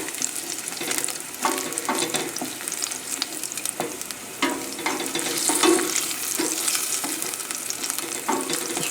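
Garlic frying in a pan for spaghetti with roasted garlic and mushrooms, a loud continuous sizzle with repeated scraping stirs running all the way through, and no talking.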